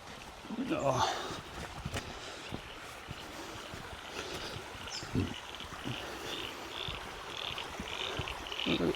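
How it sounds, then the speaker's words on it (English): Faint frogs croak by a creek in a steady, repeating pattern over soft outdoor ambience, with occasional brief rustles and a low murmur of voices. "I hope you can hear the frogs and all them creaking sounds."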